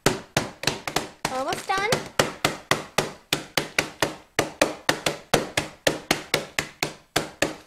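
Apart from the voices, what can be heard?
whacking Oreo cookies into coarse crumbs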